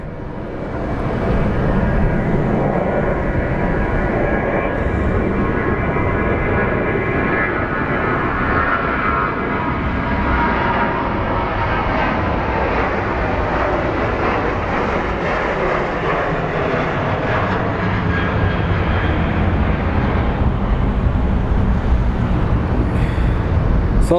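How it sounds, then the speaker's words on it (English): Jet airliner noise at Phoenix Sky Harbor International Airport, with a Frontier A320neo pushing back from the gate: a steady, loud engine roar and whine holds throughout, with no talk over it. "Looks like we have another Frontier Neo pushing back."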